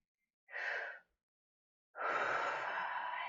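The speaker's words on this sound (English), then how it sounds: "let's take a couple of deep breaths" Two deep breaths during a guided relaxation exercise, a short airy inhale followed after a pause by a longer, louder breath out, close and alone with no talking.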